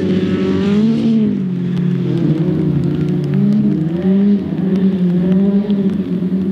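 Folk racing cars (Finnish off-road folkrace) drive a track, engines droning and revving loudly as they climb and drop in pitch, a steady rough roar with no talk over it.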